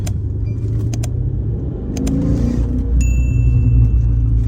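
A turbocharged V8 car pulls hard, its engine rumbling in a deep steady roar that swells louder as it gains speed, heard close from inside the cabin with no talk.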